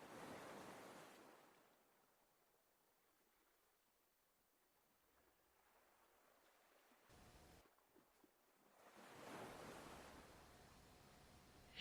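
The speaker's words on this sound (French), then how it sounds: "J'entends le bruit des vagues." Ocean waves wash onto the seashore in two broad surges, one at the start and one near the end, separated by a quiet lull with a faint low rumble; no voices.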